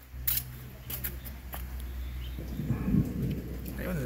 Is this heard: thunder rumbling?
yes